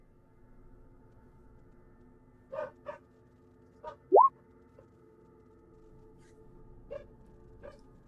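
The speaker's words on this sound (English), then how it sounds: "you hear dragon dogs barking in the distance" Dogs bark far off in scattered short bursts, a couple of quick pairs and a few lone yaps with one rising whine, over a quiet, steady background.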